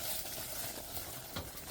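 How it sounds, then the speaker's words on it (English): Vanilla being stirred into hot boiling caramel off the heat in a home kitchen, a steady bubbling sizzle with soft stirring scrapes, fairly quiet and continuous. "We're going to put it in that boiling stuff. We've got the heat off. And we're going to stir the vanilla in."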